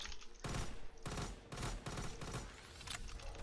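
Burst-fire shots from an STG rifle in a winter-map gun game, several sharp, loud bursts of rapid gunfire separated by brief pauses, close and dominant.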